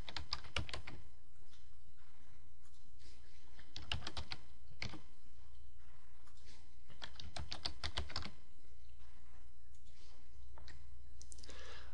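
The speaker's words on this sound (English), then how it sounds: "We can just type in a quick description for this coil here." Typing on a computer keyboard, close and fairly quiet, in irregular bursts of rapid key clicks separated by short pauses, with a faint steady background hum.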